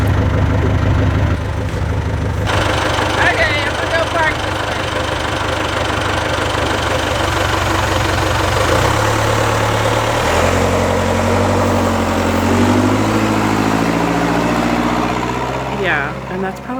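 A farm tractor's engine idles continuously at close range with a steady, loud, low diesel rumble, and faint knocking runs through it.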